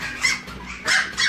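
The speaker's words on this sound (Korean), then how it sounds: "얘도 밥 달라고 짖고." A tiny teacup-sized Maltese dog gives a few short, high, yappy barks in close succession, loud and near, with no one talking over it.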